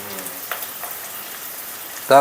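Onions and rock salt hiss in hot oil for a pumpkin and karamani curry, a soft steady sizzle heard close with a few faint crackles and a brief louder clatter at the very end.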